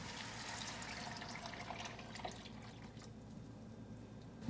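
Milk pouring into a pot of summer corn chowder, a steady liquid trickle and splash running continuously at close range with no talking.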